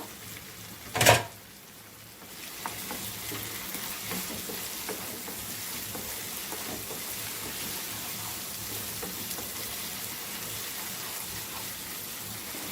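Chopped tomato sizzles and fries steadily in a pan for gongura chicken, a faint, even crackle after a sharp clatter near the start.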